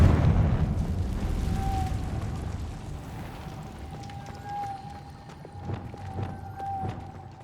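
Confringo blasting curse detonates in Hogwarts Legacy, a loud rumbling explosion that fades over several seconds, followed by scattered debris clatter and faint tones.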